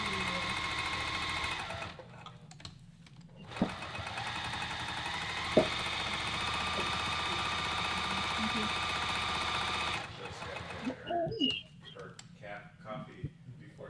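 A sewing machine top-stitches cloth napkins in a steady, fast mechanical whir for several long stretches, with brief pauses, a couple of sharp clicks and some quiet voices around it.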